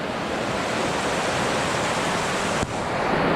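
Loud, steady rush of river water in Bryce Canyon National Park right after a crossing, a broad continuous roar close to the microphone with a brief bump near the end and no talking.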